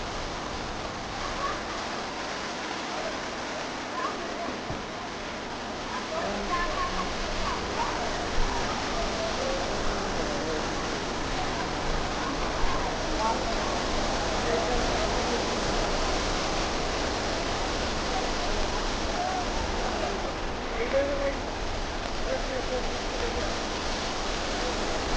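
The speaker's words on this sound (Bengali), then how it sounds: "এত সুন্দর লাগছে এই যে ঝর্ণাটা, সত্যি দেখার মতো।" A waterfall along a stepped rocky descent gives a steady, broad rushing roar that fills the whole stretch at even loudness, with faint voices now and then beneath it.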